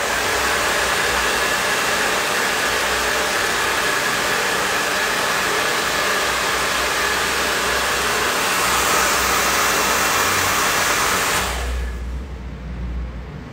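A hair dryer blows steadily and loudly onto a hair prosthesis, a continuous broadband roar that holds for about eleven seconds and then cuts off abruptly, leaving only a faint low rumble.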